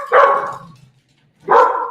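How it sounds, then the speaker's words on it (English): A wiener dog gives two loud, sharp barks close by, separated by a short pause, with no talking over them. "Wiener dog."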